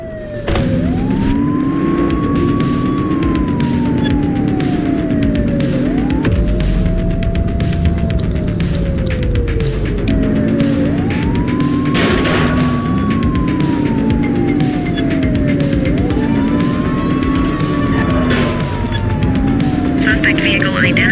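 Police sirens wail in repeated rising and falling sweeps during a car pursuit in The Precinct, loud and close over engine roar and traffic noise, with voices talking throughout.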